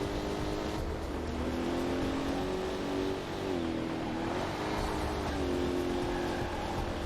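A C3 Corvette engine in the PC racing game Corvette: 50th Anniversary hums steadily and fairly quietly, its pitch dipping and climbing with each shift and throttle change.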